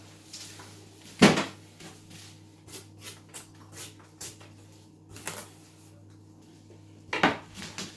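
A fishing tackle box being handled and unpacked, with several sharp plastic clacks and knocks, two loud ones near the start and end and lighter rattles between, close by.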